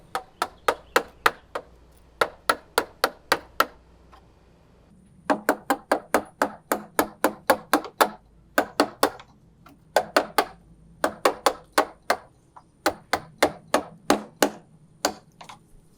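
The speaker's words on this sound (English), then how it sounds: "Now I'll chisel out the majority of this waste, staying well above this line that I've made." A chisel being struck to chop out waste wood for a tapered sliding dovetail, sharp, close, evenly spaced knocks in quick runs of several blows, separated by short pauses.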